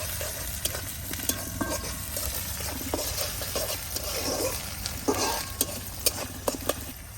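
Salted spice paste with chopped onion fries and is stirred in a pan for a dried loitta fish bhuna, with steady close sizzling and repeated scraping, clinking stirs throughout.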